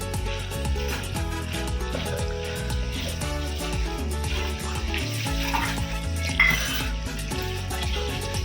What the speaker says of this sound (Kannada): ಇದನ್ನು ಚೆನ್ನಾಗಿ ತಿರ್ಗಿಸಿದ್ರೆ ಪಲ್ಯ ರೆಡಿ ಆಗುತ್ತೆ